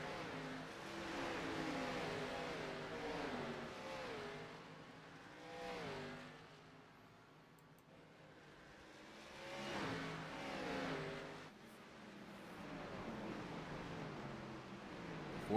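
Race cars in a racing video game, an Xfinity Series event at Richmond, roll onto pit road. Engine notes rise and fall in faint, repeated revving sweeps, with no talking.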